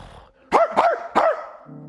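A person imitates a dog, giving three loud, quick barks in a row, close up, with a low rumble in the room before and after.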